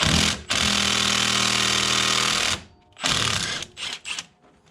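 A Milwaukee cordless power tool works loose a brake caliper on a Jeep Liberty, giving a loud, steady rattling impact burst of about two seconds, a brief pause, then several shorter stuttering bursts close by with no talking.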